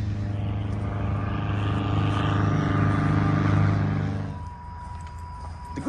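A Scout light aircraft's engine and propeller drone steadily and loudly at an off-airport strip, a close, even buzzing hum that swells slightly, then drops away sharply toward the end.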